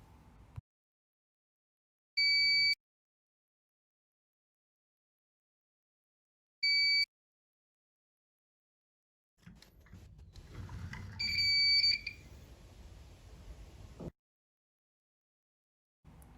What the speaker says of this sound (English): the sensor detects the movement and then the buzzer starts buzzing.